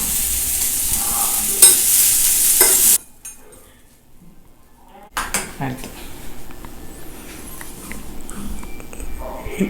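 Apple and banana pieces frying lightly in a pan, with a soft sizzle and utensil scrapes and clinks of stirring. A brief near-silent gap falls midway before the sizzling and clatter resume.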